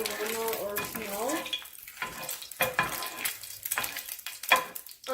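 Oil pops and sizzles steadily in a pan while pasta is cooked and stirred, with scraping stir strokes and crackling bursts close by, no talk over it.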